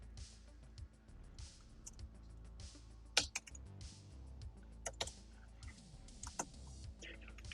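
Typing on a Mac keyboard, a steady patter of quiet key clicks with a few sharper, louder keystrokes, heard close up against a low background hum.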